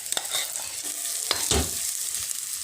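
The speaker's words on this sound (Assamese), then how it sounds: "এই পিটিকি থোৱা আলুখিনি ইয়াত মই অকণমান ভাজি লম।" Mashed potatoes with spices fry in oil in an appe pan, a steady close sizzle broken by a few scraping stirs, with one louder stir near the middle.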